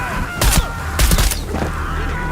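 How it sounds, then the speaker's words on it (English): Bursts of gunfire in the video game Shadow of the Tomb Raider, two loud clustered volleys close together followed by a fainter crackle, over a low game ambience. "Reports of more gunfire."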